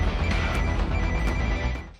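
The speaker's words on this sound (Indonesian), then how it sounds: "Di saat yang sama, ponsel milik Kim yang disita di meja barang bukti tiba-tiba berdering." A confiscated mobile phone rings on an evidence table in a Korean action film, a bright electronic ring repeating over a low rumbling background before fading out.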